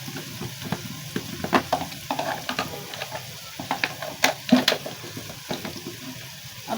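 Ginger paste with green chili being fried and stirred in a pan for a spiced potato and moong dal dish, with a steady close sizzle broken by repeated scraping clicks of a spoon against the pan.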